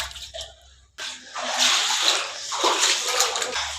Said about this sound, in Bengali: হালকা জল আছে।